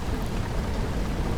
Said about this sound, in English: Conjures a storm that causes periodic lightning strikes